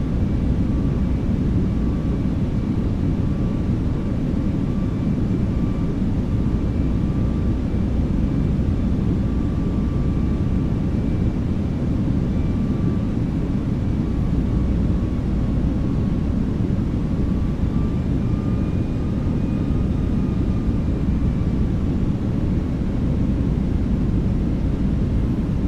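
British Airways Airbus A319 airliner on a night landing approach, a steady loud broadband roar of engines and airflow with faint tonal whines, continuous and unbroken throughout.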